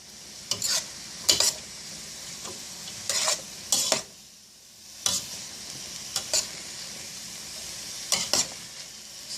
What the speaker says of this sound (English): So we're now just going to be sauteing these.